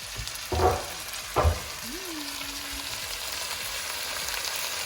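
Meat and potatoes sear in a pot for Guinness beef stew, giving a soft steady sizzle, with a couple of louder stirring clanks early on.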